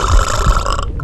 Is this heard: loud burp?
yes